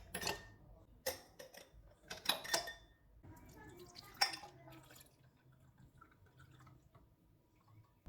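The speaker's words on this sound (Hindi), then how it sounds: "ग्लासों में आइस क्यूब्स डालेंगे और शरबत डाल देंगे।" Plum sharbat poured over ice cubes in glasses, with faint close clinks of ice against glass and soft trickling splashes in several short bursts, quiet overall.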